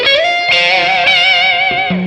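Electric guitar played through overdrive with reverb and delay, a few sustained distorted notes ringing out rich in harmonics, loud and close with a trailing echoing tail.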